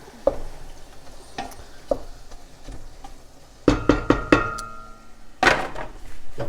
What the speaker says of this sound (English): giving that a good stir every once in a while